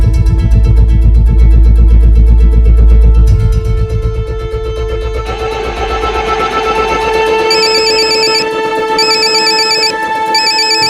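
A phone ringtone plays a repeating electronic melody, steady and loud, over a low rumble that fades after the first few seconds.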